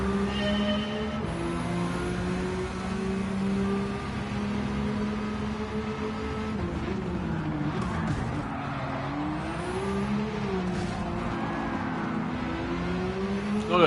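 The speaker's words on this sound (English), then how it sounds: "I'm racing against a bunch of other cars" Racing car engines from Gran Turismo 7, a pack of cars including a Porsche GT1, drone steadily with shifting pitch and occasional tire squeal, held at a moderate, continuous level without talk.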